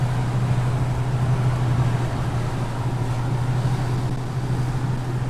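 A 1968 Rover P5B driving on a road in Upper Austria in early spring gives a steady, even engine drone with constant road and wind rush throughout. No voices are heard.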